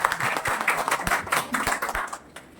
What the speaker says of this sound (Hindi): एक बार कुछ एनर्जी दिखाते हुए जोर से तालियां बजा दें